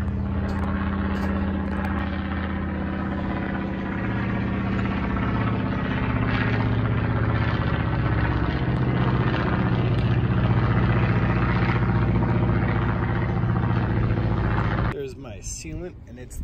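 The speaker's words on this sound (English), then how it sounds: "And there's a biplane up there." A biplane passes overhead outdoors, its propeller engine a droning, harmonic hum that holds steady before cutting off abruptly near the end, with someone talking over it.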